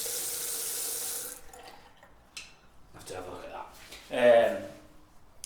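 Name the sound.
water running from a bathroom tap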